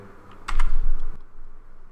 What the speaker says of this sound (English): press R on the keyboard